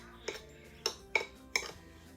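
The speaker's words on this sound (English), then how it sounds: "Give this a quick stir until it's well incorporated." Spoon clinking against a bowl while stirring graham cracker crumbs with melted unsalted butter and white sugar, four sharp, evenly spaced metallic clinks, close and fairly quiet.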